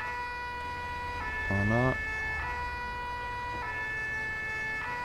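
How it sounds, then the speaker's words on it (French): Emergency vehicle siren from a Paris fire brigade truck in the modded GTA 5 game, a steady wailing tone held through the clip with a brief engine or horn blast near the middle, and a single short spoken word. "on va essayer de mettre les sirènes pour aller un petit peu plus vite"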